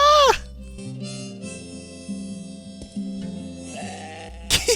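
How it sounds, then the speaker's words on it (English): Sheep in the video game Moirai bleat in a run of close, distinct calls, each animal with its own voice, over a steady low ambient music drone, with a sharper call near the end. "Oh my god, they have their own individual bahs!"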